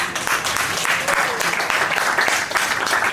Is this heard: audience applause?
yes